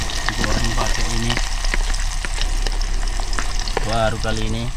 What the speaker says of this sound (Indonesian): Proses penggorengan ya.